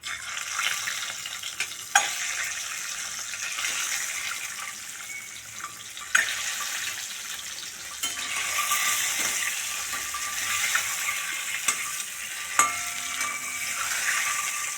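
Eggs fry in oil seasoned with turmeric, a soft continuous sizzle broken by a few sharp clicks and clinks of a utensil, with a watery, tap-like hiss underneath and no voices.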